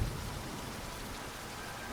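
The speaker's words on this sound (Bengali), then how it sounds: "বৃষ্টি তখনও অবিরাম গতিতে ঝরে চলেছে।" Heavy rain for a suspense-horror audio drama, a dense, unbroken roar of downpour with a low rumble at the very start, loud and steady throughout.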